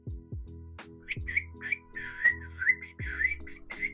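A person imitating a kookaburra with rising whistled and chirping calls, a string of shrill bird-like notes repeated in quick succession against low game tones.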